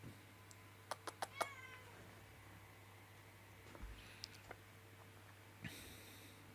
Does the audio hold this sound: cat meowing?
yes